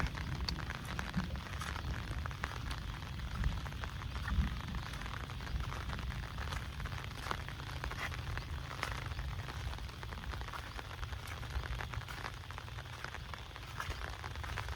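Rain falls steadily on open farm fields, a continuous even hiss of drops with no pauses and no voices.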